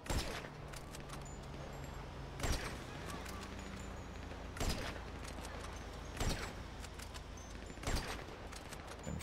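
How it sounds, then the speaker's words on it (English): Gunfire in the video game GTA V comes as sharp, faint bursts about every two seconds over a low background hum. "Shooting right at that guy."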